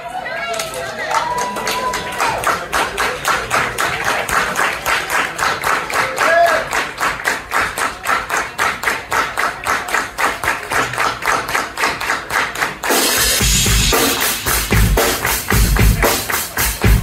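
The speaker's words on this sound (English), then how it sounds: "Put your hands together and your arms together and give me some of that old soul clap." Audience at a live soul concert at Fitzgeralds claps along in a steady rhythmic beat for a cover, the regular hand claps running throughout over the band, with louder music surging near the end.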